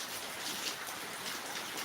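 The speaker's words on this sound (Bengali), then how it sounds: "অনেক বৃষ্টি এই দেখতে পাচ্ছেন বৃষ্টি" Steady rain falls in a continuous, even hiss with no pauses, moderately loud and filling the whole stretch with no voices.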